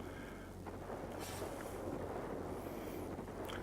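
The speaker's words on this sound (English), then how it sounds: "There's a heavy storm here." Storm wind in the flight game World of Warplanes, a steady broadband rush with low rumble that stays constant throughout, with faint higher whistles drifting over it and no talking.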